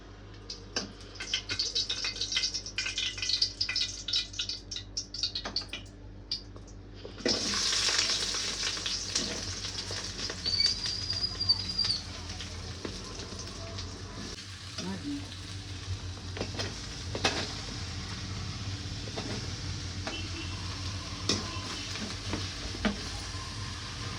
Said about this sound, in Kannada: ಆಮೇಲೆ ಪದಾರ್ಥಗಳನ್ನು ಬಾಡಿಸಿಕೊಳ್ಳಬೇಕು